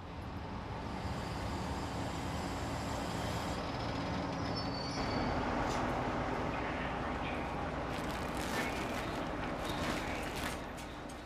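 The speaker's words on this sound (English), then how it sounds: "So they're going on the night train." Low, steady rumble of a night mail train, with hissing and clanking bursts later on, heard from a moderate distance.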